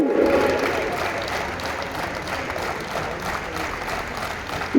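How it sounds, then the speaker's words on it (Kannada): An audience of children at a district event claps loudly and steadily, a dense, continuous wash of applause with faint crowd murmur underneath. "ಹೊಡಿರಿ ಜೋರು ಚಪ್ಪಾಳೆ"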